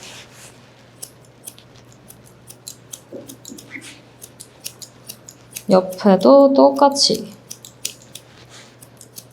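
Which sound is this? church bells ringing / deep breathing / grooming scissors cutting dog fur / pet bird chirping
grooming scissors cutting dog fur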